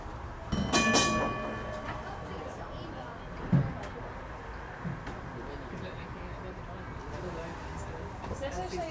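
Tram running on its tracks during a museum heritage tram operation, a steady low rumble with a screech and scattered knocks and clunks, voices murmuring over it.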